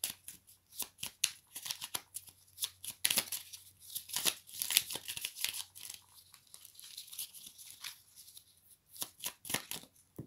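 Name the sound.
shuffling oracle cards to draw one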